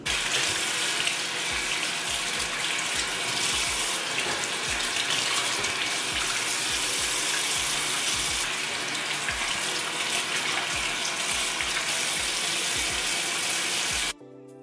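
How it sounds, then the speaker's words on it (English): Houseplants rinsed under a running tap, a loud, steady close-up rush of water splashing over leaves and into a sink for about fourteen seconds before it shuts off. "let's rinse these so we can prevent any other pest."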